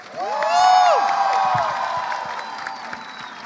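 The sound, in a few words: audience applause and cheering at a book fair panel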